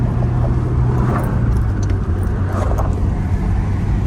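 Steady road noise of a small manual stick-shift car driving on a back road, a constant engine drone and tire rumble throughout, with faint rattles inside the cabin.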